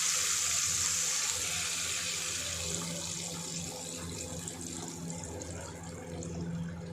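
Water pours steadily into a cooking pot for semiya rava pongal, a continuous close splashing stream with no talk.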